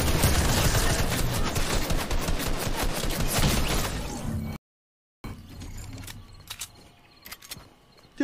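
Fortnite gunfire: loud, dense rapid bursts for several seconds, then a brief silence and quieter scattered game sounds.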